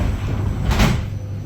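VB2N Transilien commuter train doors closing with a single hissing, sliding thump at close range over a constant low rumble.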